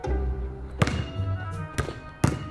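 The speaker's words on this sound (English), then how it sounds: "The three-point bounce shot." A basketball thuds hard several times in a bounce shot attempt, sharp thumps spaced about a second apart over a low rumbling background.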